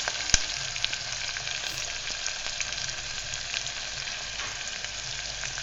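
Mutton keema fries in a pan with ginger and turmeric, making a continuous even sizzle with a sharp spoon knock near the start and soft stirring scrapes throughout.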